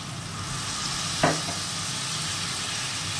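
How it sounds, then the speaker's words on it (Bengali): Spice paste frying in a pan for a thin small-fish curry with nigella seeds and green chillies, a steady hissing sizzle throughout with one brief scrape or clink of stirring. "মশলাটা ভালো করে কষাতে হবে"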